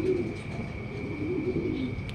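Pigeons cooing nearby as they arrive at a loft, soft low repeated coos over a quiet outdoor background with a faint steady tone.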